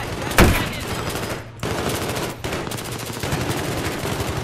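Rapid automatic gunfire from a Battlefield 3 firefight rings out loud and close, with one sharp initial blast followed by sustained bursts broken by brief pauses.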